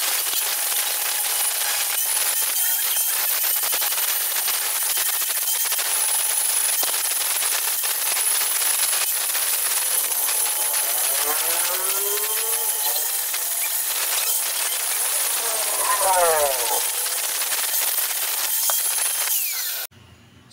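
An angle grinder works steadily on metal during welding work, a continuous harsh high-pitched hiss close up for about twenty seconds, with a couple of brief scraping pitch sweeps before it cuts off.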